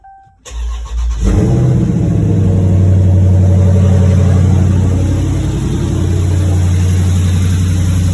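A Dodge Charger Scat Pack engine, swapped to a 392, cranks briefly, catches and settles into a loud, steady idle up close.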